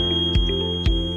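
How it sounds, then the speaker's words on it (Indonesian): A steady electronic buzzer tone from a rain sensor alarm signalling detected rain, with two brief louder pulses, sounding fairly close and continuous throughout. "buzzer berbunyi sebagai indikator suara, memberikan peringatan bahwa hujan telah terdeteksi"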